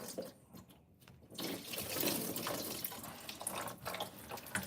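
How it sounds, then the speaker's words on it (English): Car coolant pouring out of a radiator being replaced after a cooling system failure, a loud splashing gush of liquid that starts after a quiet moment and keeps draining steadily. "Oh, there goes the coolant."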